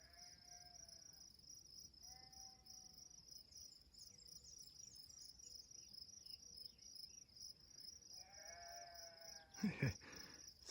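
Distant sheep bleat a few times from a farm below woods on the Appalachian Trail, faint and far off, over a constant chorus of crickets, with a brief rustle near the end.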